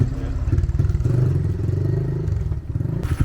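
A Honda Monkey bike engine runs and revs in a rough, throbbing, close-up idle that rises and falls, with some mechanical clatter and faint background voices.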